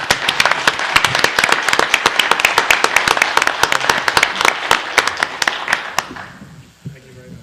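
Lively applause rises in a council chamber during a city council meeting, with dense overlapping hand claps sustained for about six seconds before tapering off into quieter room noise and a few murmurs.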